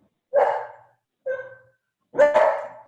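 A dog barks three times indoors, each bark separate and fairly loud with short pauses in between, and no talking over it.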